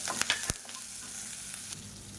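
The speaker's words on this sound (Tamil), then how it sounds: "இப்போ எண்ணெயில் போட்டு வதக்கிக்கலாம்." Five finely chopped green chillies sizzle and fry in hot oil, with a few sharp spatula scrapes and stirring clicks at the start, then a steady close crackle alone.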